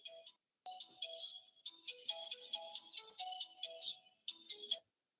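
A mobile phone ringtone plays a bright electronic melody of short repeating notes, opening with a brief burst, pausing, then running steadily before cutting off into silence.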